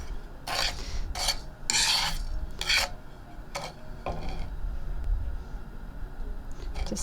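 Dandelion coffee pieces browning in a pan on high heat, stirred and scraped with a rough, rasping rub that comes in a few short bursts over a steady low background, close and moderately loud.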